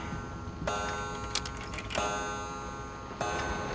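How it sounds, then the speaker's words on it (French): A pendulum clock in the horror game Layers of Fear ticks clearly, sharp metallic clicks spaced irregularly across a few seconds over a faint background hum. "c'est le réveil, c'est la pendule plutôt."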